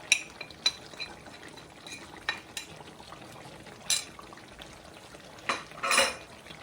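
A spoon scrapes and clinks through mango pickle cooking in oil with five-spice and dried chili powder, soft sizzling beneath a handful of sharp, irregular stirring knocks, close and fairly quiet.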